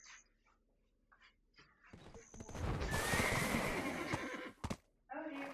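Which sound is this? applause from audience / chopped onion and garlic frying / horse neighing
horse neighing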